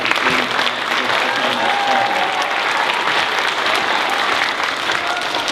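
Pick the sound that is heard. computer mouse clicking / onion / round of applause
round of applause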